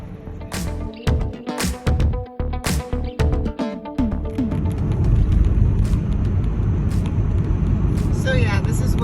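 A car cruising down Clark Street on the south side of Sarasota at 2:48 at night: a few sharp clicks and thumps, then a steady swelling road rumble of tires and engine, with a voice talking over it.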